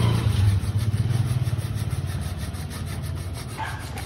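Hacksaw cutting through metal, a rapid steady back-and-forth rasp with rhythmic strokes, loud and close, heard alone.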